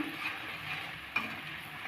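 Ginger and garlic paste frying in a pan for a vegetable curry, a soft continuous sizzle with a single utensil tap, no talking.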